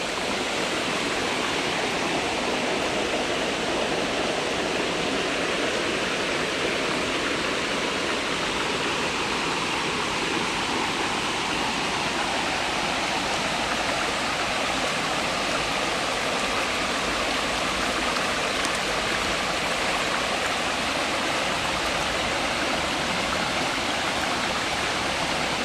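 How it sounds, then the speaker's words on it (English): Morgan Brook flowing steadily, a dense, continuous rush of water close by with no pauses, heard alone for the full length. "I'm at the Morgan Brook."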